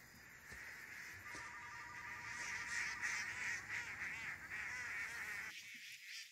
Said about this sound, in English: those are my ducks.